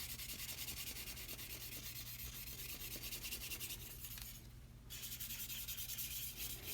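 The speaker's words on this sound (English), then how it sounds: "that's just a light scrubbing" Rust being lightly scrubbed off blued steel bayonets: a steady, close, rasping scrub in quick back-and-forth strokes with one brief pause, and no voices.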